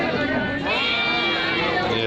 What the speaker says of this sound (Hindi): एक बकरी